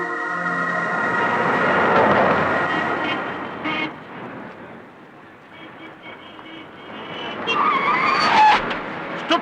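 A car skids loudly and then crashes into another car. Harsh tire noise swells over the first few seconds, then gives way to quieter rumbling and a sharp metallic clatter of impact near the end.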